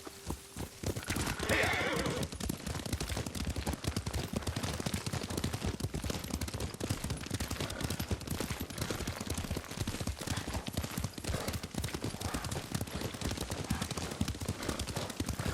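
Horse hooves in the samurai video game Ghost of Tsushima, a steady rapid clip-clop of a galloping mount running continuously and loudly throughout, with the game's ambient soundscape underneath.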